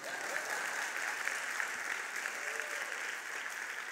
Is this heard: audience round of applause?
yes